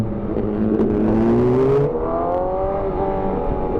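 Loud sport motorcycle engine rising steadily in pitch under acceleration, then dropping after a gear change, heard up close from the rider's position with steady wind noise.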